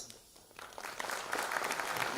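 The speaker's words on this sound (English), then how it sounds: "First of all, a round of applause for Jayanta Das." Applause swells up from quiet at an investment workshop audience in Mumbai, growing into steady, moderately distant clapping by the end.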